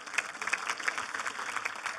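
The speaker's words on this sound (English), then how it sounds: "Another round of applause for my time, please." An audience at a conference session claps, with a dense, steady burst of applause lasting a couple of seconds. The clapping fills the room and is heard alone, with no talking.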